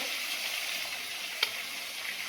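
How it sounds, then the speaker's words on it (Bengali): Bay leaves fry in hot oil in a pan, a steady, soft sizzle holding evenly throughout with one brief tick partway through. "তেজপাতা এটা ভালো করে ভাজা হয়ে গেছে।"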